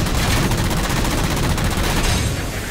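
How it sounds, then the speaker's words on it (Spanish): Dense, sustained gunfire from the video game Halo 4 fills the whole stretch, loud and continuous like automatic weapons and rapid volleys, with no talk over it. "Ok, hay unos tiros."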